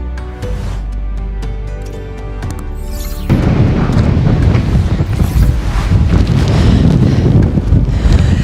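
Strong wind buffeting a microphone outdoors on Fuerteventura in the Canary Islands, a loud continuous roar that surges heavier after a few seconds, with no talking.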